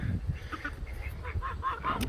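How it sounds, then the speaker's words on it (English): Guinea fowl on a farm call out in harsh, repeated honking cries that run together over a low background rumble. "Hey, guineas, I would like for you not to go that way."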